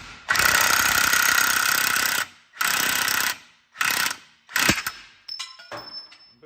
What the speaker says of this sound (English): hit it with the impact and it'll drive the bushing right out